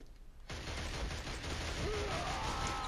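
Dense, rapid gunfire in the PS3 game Killzone erupts and continues as a sustained volley, loud and close, with a faint electronic tone rising underneath.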